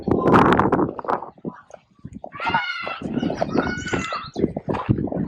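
Chickens at a farm chicken coop cluck close by while a rooster crows in a long, ragged call, with some noisy rustling at the start.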